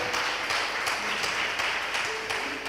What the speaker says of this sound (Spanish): Vamos, un aplauso al Señor por su misericordia